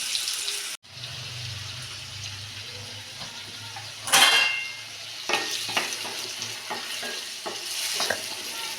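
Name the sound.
onion and tomato sautéing in hot oil with mustard seeds and cumin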